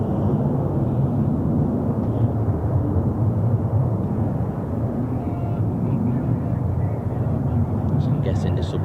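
An F-35B jet comes in for a vertical landing at an air base, a loud continuous roar that fills the whole stretch with steady rumbling power and no break.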